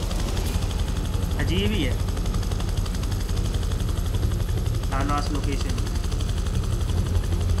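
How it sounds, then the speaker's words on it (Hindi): In the video game Prototype 2, a helicopter's rotor and engine churn in a steady, dense drone throughout, mixed with rattling bursts like gunfire, while someone talks over it. "यहाँ पे लैंड कराना पड़ेगा मुझे अपना हेलीकॉप्टर"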